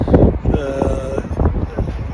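Strong gusting wind buffets the microphone outdoors in a Bingöl neighborhood during a storm that tore a roof off a building, producing loud, uneven low rumbling in surges.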